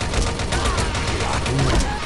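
Continuous gunfire from the Frontline Commando: Rivals shooter game, dense and loud for the whole stretch, with a voice talking over the shots.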